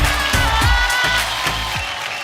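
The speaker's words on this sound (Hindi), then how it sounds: "जोरदार तालियां माधुरी जी के लिए." An audience at a glamorous evening event gives Madhuri a loud, sustained burst of clapping with crowd noise throughout.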